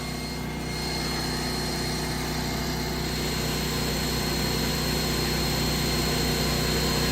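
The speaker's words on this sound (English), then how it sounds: "Turn on the small sander." A small electric sander runs from a portable power station, giving a steady high buzzing whine with a constant motor drone throughout.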